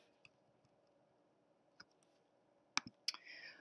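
Sparse computer mouse clicks while shift-click-dragging objects in Illustrator, a few quiet isolated ticks early on, then two sharper close clicks and a brief scraping shuffle at the end.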